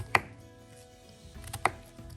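A knife slicing through an onion on a board for tomato ragu, two sharp close cuts about a second and a half apart with quiet handling in between.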